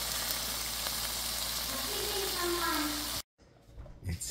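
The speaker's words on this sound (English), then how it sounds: "Who doesn't like bacon? Listen to that sizzle." Bacon sizzles in a frying pan at home, a dense steady hiss of spitting fat filling most of the clip before cutting off abruptly, followed by faint kitchen noise.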